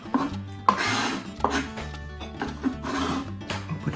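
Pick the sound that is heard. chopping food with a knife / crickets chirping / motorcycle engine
chopping food with a knife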